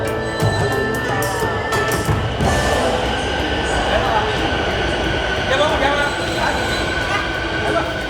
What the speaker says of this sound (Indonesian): Tepat jam 6 pagi, MRT datang